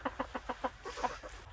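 Chickens cluck softly in a quick, even series of short clucks, fairly faint and close by.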